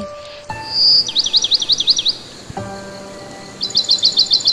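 A small bird gives bright, rapid trilling chirps in two bursts, close and clear, with a faint steady background hum between them.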